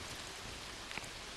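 Rain falling in a New Zealand forest, a steady soft hiss of drops on leaves with one brief brighter patter, faint and even throughout with no voices.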